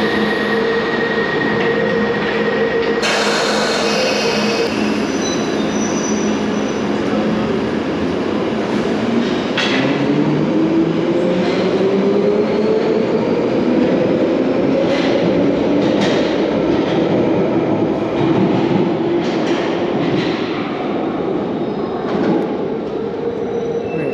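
A London Underground train in a station on the District and Piccadilly lines, a loud steady rumble with rising motor whine and scattered clicks, squeals and rattles throughout.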